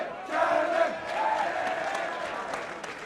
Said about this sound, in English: So that's the Phoenixville crowd.